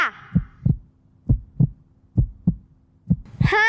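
A heartbeat sound effect on a TV game show: steady, paired lub-dub thumps repeating about four times, loud and isolated against silence, with a brief exclamation at the very end.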